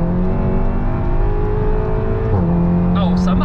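A SEAT Leon Cupra with a four-cylinder engine accelerates hard, its steady engine drone rising and shifting pitch around a gear change, loud and close, with people talking over it.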